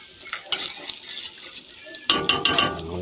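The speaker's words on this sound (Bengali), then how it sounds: "নেড়ে দিচ্ছি" Potato and eggplant curry stirred in a pan, with repeated scraping and clinking of a utensil against metal over a low sizzle, growing louder and busier in the last second, close up with no talk.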